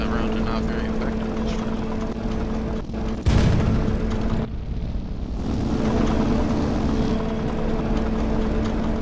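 A tank cannon in the game Sprocket, on a Tiger 1 E, fires at a teammate's tank: one sharp heavy boom cuts through a steady loud engine rumble, and the rumble carries on afterward.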